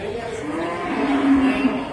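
Cattle at the Sukorejo animal market in Kendal give a single drawn-out moo that rises and holds near its end, close by over a low hum of market background.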